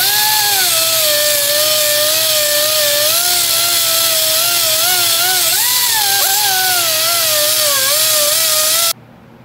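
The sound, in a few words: buffing engine block gasket surfaces clean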